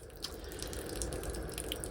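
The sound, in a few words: water running out of a garden hose pipe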